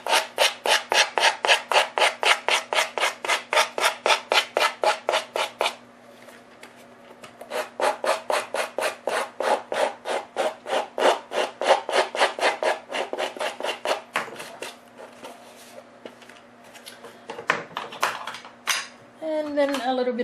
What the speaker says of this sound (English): Then I'm just going to give it a quick sand.